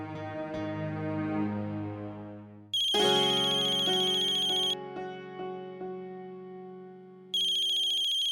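A phone ringtone plays loudly for an incoming call, a melodic electronic tune repeating in clear phrases with no talk over it.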